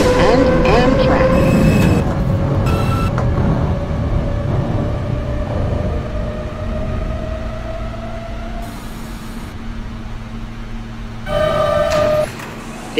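An R160A Alstom C local subway train in OpenBVE runs with a steady rumble and rising motor whine, then squeals and hums, with bursts of brighter tonal sound near the end.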